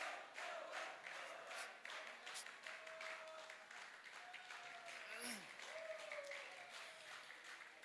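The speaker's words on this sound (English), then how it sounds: "let's give him a clap" An audience at a Catholic youth meeting applauds in a hall, a dense, continuous patter of clapping from many hands, heard from some distance at low level with a few faint vocal tones mixed in.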